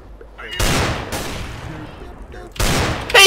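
Gunfire bursts in Counter-Strike: Global Offensive, several loud shots in quick clusters separated by short pauses, with a final sharp report at the end.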